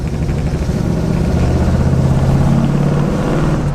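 A worn-out Oldsmobile 442 drives along with a steady, loud engine drone and low rumble that holds evenly throughout, with no talking over it.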